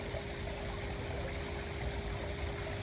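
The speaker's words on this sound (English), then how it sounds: "we're going to press down and let water drain out of the autofill and relieve pressure" Water drains out of a pool's automatic fill system as it is pressed down to relieve pressure before a freeze, a steady trickling, streaming wash that runs continuously and fairly close throughout, with no voices.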